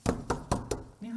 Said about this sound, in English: We have to knock on each door in this entire building.